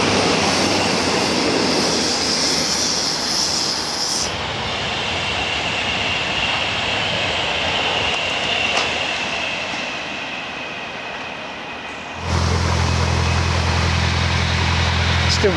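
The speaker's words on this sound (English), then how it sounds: "I've got a little bit of a noisy train line by the looks of things" A train rolls past on a nearby railway line, a loud continuous rumble and roar that shifts in character partway through and then swells again with a deep low drone near the end.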